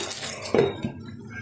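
A metal lid clanks as it is lifted off a pot of achari chicken simmering in oil on a gas stove, a single close clatter with a softer knock just after.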